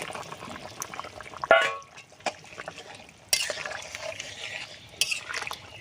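A pot of katla fish curry with ridge gourd and potato simmers gently while a spoon stirs and scrapes it in short bursts, close up, with soft bubbling between the strokes.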